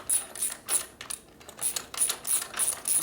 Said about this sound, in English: Now I need to get a wrench.